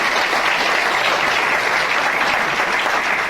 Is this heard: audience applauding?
yes